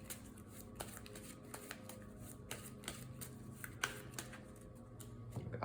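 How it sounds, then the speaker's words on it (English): A deck of game cards being shuffled by hand for a solo Spider-Man versus Loki card game, soft repeated riffling and tapping clicks, quiet and close. "then we shuffle up the discard pile here."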